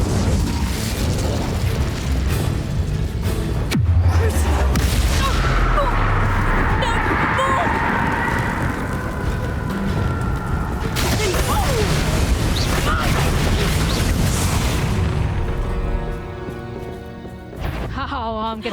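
Fire-spell blasts in Hogwarts Legacy, Incendio among them, erupt as loud booming bursts and roaring whooshes over a dense, busy game battle soundscape, with voices and effects layered throughout.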